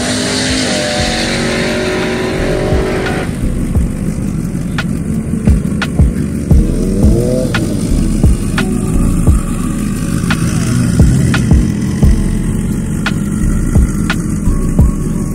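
Two motorcycles, a Kawasaki ZX14 and a stock-motor Suzuki GSXR750, race with a loud engine roar that climbs through rapid gear-change pulses, close and dominant throughout.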